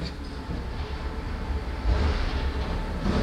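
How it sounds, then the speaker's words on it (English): Garbage truck rumbling in the background on trash day, a continuous low engine drone with a swell partway through, heard faintly behind a transmission assembly workspace. "it's trash day, so sorry about the noise in the background"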